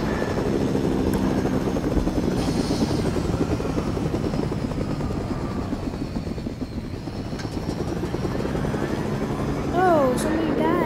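Steady rotor thumping from a Fortnite helicopter carries through the whole stretch at close range, with game effects chirping near the end.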